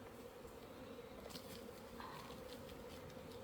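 Honeybees shaken down during a mite density check hum in a steady, low, continuous drone with small rustling movements over it, close and even throughout.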